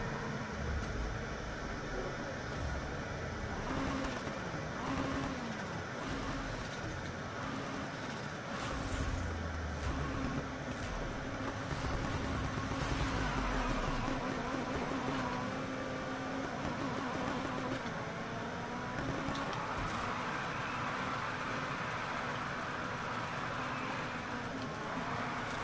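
A V8 car engine in the NFS Heat video game drones steadily in a low, continuous rumble that rises and falls slightly as the car drifts. It plays loud and unbroken, with no talk over it.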